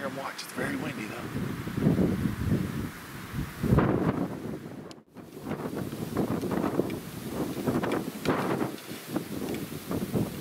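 Strong outdoor wind buffets the microphone with gusty low rumbling and rustling throughout, with a person talking under it and one brief drop-out midway.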